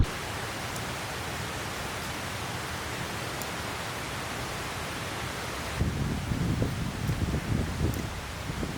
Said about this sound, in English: Some windy gusts out there making the trees sway a little bit